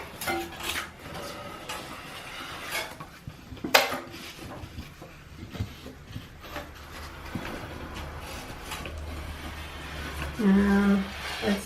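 A putty knife scrapes out a drywall patch in short, uneven rasping strokes, close and moderately loud, with a sharp knock near the middle and a brief tonal hum toward the end.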